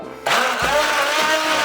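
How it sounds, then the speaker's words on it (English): An electric kitchen blender starts up abruptly and runs at a loud, steady whirring roar while blending a fish dish with mustard, a brief low thump sounding as it begins churning. "blend it once more with my blender"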